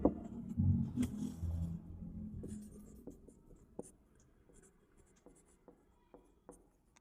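Marker or chalk writing on a board during a maths lesson: rubbing strokes at first, then scattered light ticks and taps, quiet and close, with no talking.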